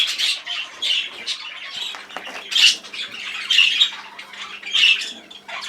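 Birds squawking in repeated harsh bursts, several loud calls spaced irregularly over a quiet background, close by with no talk.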